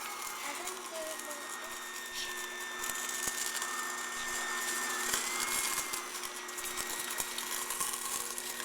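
An electric mixer whirs steadily through butter and light brown sugar for cupcake batter, a continuous motor drone with a faint rising whine, while someone talks quietly over it.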